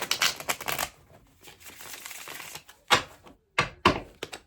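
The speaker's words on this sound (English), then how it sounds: "I'll just give the cards a bit more of a shuffle." Tarot cards are shuffled in quick papery riffles and taps, with short bursts and pauses, close and fairly quiet.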